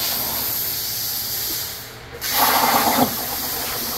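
A shop cutting machine slices parts from a whole metal sheet in a custom welding and fabrication shop, giving a steady loud hiss that briefly cuts out, then returns with a rougher, sputtering burst.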